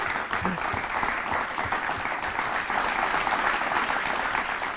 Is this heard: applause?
yes